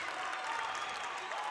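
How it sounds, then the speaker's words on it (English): A crowd in a girls' high school basketball arena at Buckeye Valley roars with steady applause and cheering during a timeout, a dense, sustained wash of clapping heard at a distance. "You hear this arena erupting."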